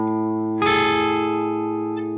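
Guitar chord with an added A in the bass rings out clearly, a single strum with sustained, bright overtones slowly decaying, no voices.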